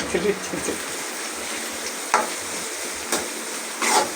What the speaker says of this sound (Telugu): పచ్చిమిరపకాయలు కరివేపాకు బాగా యాగనివ్వాలి